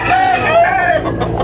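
Hens cluck and a rooster crows nearby on a poultry farm, with chicks among the hens, a short burst of poultry calls overlapping one another.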